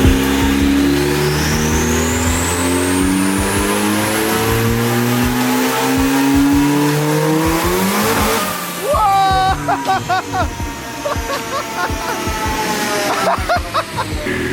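A turbocharged Honda Civic on a dyno revs hard, its loud engine note climbing steadily for several seconds before dropping, then clattering and fluttering through sharp bursts as it revs again.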